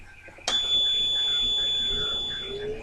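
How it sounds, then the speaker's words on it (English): An oxygen concentrator sounds a sudden piercing electronic beep at startup that holds as a steady high tone for about two seconds, then fades, over the machine's low hum. "when I hit this switch, you're going to hear a loud beep"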